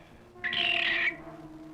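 A cartoon bird lets out one loud, harsh squawk lasting about half a second, standing alone against a quiet background hum.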